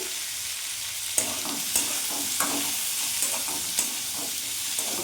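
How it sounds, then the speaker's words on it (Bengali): Chilli chicken stirring and frying in a pan, a steady close sizzle with repeated scraping strokes of the spatula every half second or so, no voices. "নাড়াচাড়া করে ভাজা ভাজা করবো"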